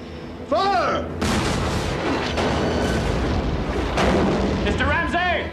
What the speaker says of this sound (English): Mr. Green, the captain says to clear your ports and commence firing.